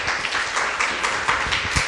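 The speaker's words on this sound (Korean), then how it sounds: "다시 한번 큰 박수 부탁드릴게요" Audience applause rings out steadily after a live music act performing at an author talk event, dense clapping sustained throughout at a fairly even level.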